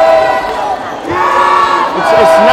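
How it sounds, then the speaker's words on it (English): Home-crowd fans cheering at a high school exhibition basketball game between Kingsway College and Crawford Adventist Academy, a steady loud gym roar with shouting swelling in waves across the whole stretch. "As you can hear in the back, the fans are cheering."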